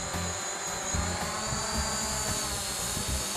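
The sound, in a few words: drone taking off into the air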